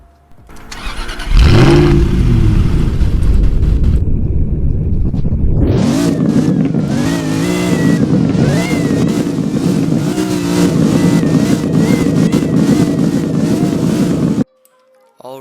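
A turbocharged car engine in Roblox cranks and fires, drops back, then cranks again and catches into a loud, steady idle with a whining overtone, close and alone until it cuts off.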